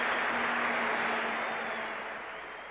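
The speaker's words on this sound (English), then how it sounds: "the crowd on their feet cheering this man in what will probably be, or what is his last appearance at the Sydney Cricket Ground" A cricket crowd at the Sydney Cricket Ground on its feet for a Test between Australia and the West Indies, a broad, sustained wash of applause and cheering that slowly fades toward the end.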